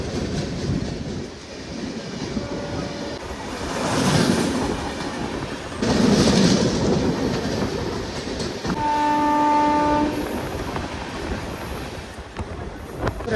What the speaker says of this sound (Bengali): আমাদের ট্রেন এখন ছেড়ে বেড়াচ্ছে মালদা টাউন রেলওয়ে স্টেশনের 1 নম্বর প্ল্যাটফর্ম থেকে।